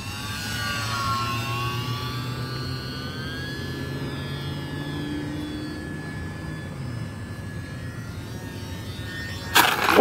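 An E-Flite UMX Gee Bee R2 model plane's small electric motor whines, its pitch gliding and dropping as the plane descends, ending in a sudden sharp crash-landing impact at the very end.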